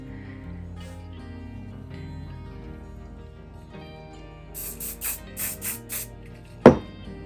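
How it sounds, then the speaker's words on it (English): Hairspray from an aerosol can gives about five short, sharp hissing bursts in quick succession over quiet background tones, followed by a single loud click. "I'm gonna get some hairspray and we are gonna spray these now"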